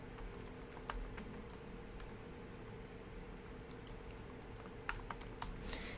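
Someone types a temporary password on a computer keyboard, with soft, irregular key clicks at close range and a few sharper taps near the end, over a quiet room hum.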